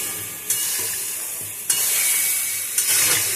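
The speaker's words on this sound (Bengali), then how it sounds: "জল দিয়ে এবার আমি কষাবো" Katla fish belly pieces and cauliflower sautéing in a pan after water is added, a steady loud sizzle and hiss with a few sharp bursts as the food is stirred.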